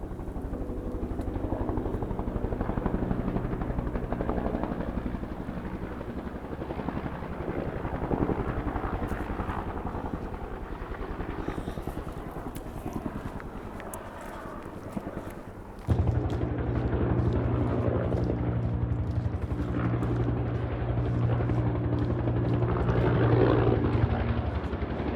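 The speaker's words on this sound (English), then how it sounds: "Well, I couldn't get the helicopter on the screen" Helicopter flying over a river crossing on the Pacific Crest Trail, a steady outdoor rotor drone that stays loud and continuous for about twenty-five seconds, with no voices.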